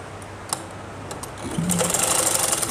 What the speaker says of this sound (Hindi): अब देखो सिलाई लगा देंगे हम।